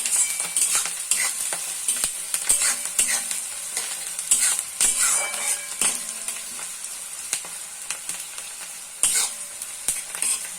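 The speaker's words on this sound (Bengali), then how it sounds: "এটা একটু হালকা আমি ফ্রাই করে নেবো। তো আমি আর একটু নাড়িয়ে নেবো এটা।" A dhaba-style tadka sizzles in oil in a pan while a utensil stirs and scrapes, sharp clinks and scrapes repeating irregularly over the continuous frying hiss.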